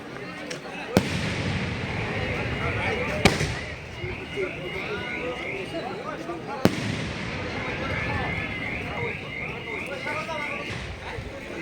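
Christmas fireworks go off late at night during a Christmas festival in Moriyamnagar: a few sharp, separated bangs ring out over a continuous wash of crowd noise and voices.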